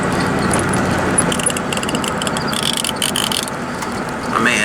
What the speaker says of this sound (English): see if I can take this pulley off very easy